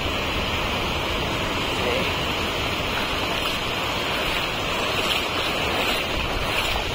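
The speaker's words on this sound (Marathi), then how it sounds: "लाटा किती भारी येत आहे." Ocean surf on a clean white sand beach at Aarvi in Konkan makes a steady, close roar with no distinct breaks, mixed with wind buffeting the microphone.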